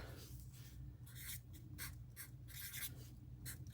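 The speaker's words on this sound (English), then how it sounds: "write that on the back here" A pen writing on the back of a paper cash envelope, quiet scratchy strokes in short bursts, close and faint with no talking.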